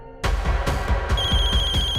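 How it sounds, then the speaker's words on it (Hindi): An old-style telephone bell rings loud and close in repeated bursts, starting abruptly after a short lead-in, with no voices. "फोन उठाओ वीरेन, फोन उठाओ"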